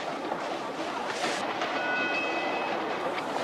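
A train runs on rails with a steady rumbling roar and faint rhythmic clatter, a thin high squeal rising briefly midway, continuous and moderately loud with no one speaking.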